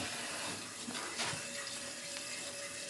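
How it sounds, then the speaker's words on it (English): Water rushes steadily into a toilet tank as it refills after a leak repair, a constant close hissing flow with no voices. "So now it's filling up."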